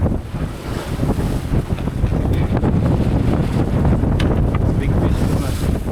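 A sailboat beats upwind on the open ocean toward Tonga, with heavy wind buffeting the microphone, rushing water and sloshing waves along the hull, loud and continuous throughout.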